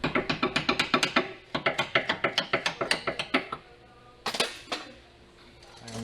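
Rear stabilizer bar bushing on a 2008-2012 Hyundai Santa Fe being hammered out, heard as a fast run of sharp metallic blows, then a pause and a few more hits, close and fairly loud.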